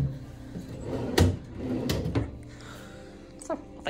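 Drawers in a hotel room sliding open and shut, a few wooden thumps and scrapes close by, the loudest knock early on, with quieter rattles following and some talk underneath.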